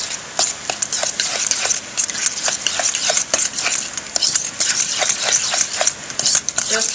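Pie filling stirred with a thickener in a bowl, a busy run of wet scraping and clinking spoon strokes in an uneven rhythm, close and fairly loud, no speech.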